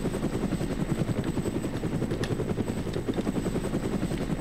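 A helicopter in the combat game ArmA thumps with a fast, steady rotor beat and a low engine drone, close and continuous, with no talking over it.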